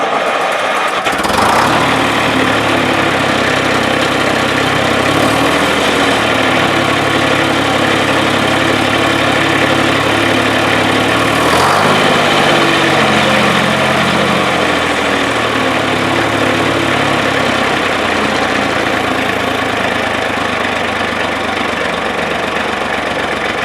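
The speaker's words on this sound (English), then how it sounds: "Now that we've seen the Steiger 105 run" Steiger 105 four-wheel-drive tractor engine running, a loud continuous diesel rumble with knocking idle, revving up briefly around a few points before settling back, heard alone without voices.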